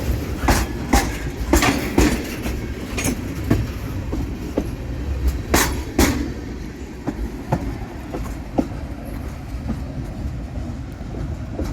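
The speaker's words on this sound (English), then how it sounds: "we caught that train crossing through" A train rolls across old tracks in Eagle Lake, Florida, wheels clacking in an irregular series of sharp knocks over a steady rumble, close by and loud.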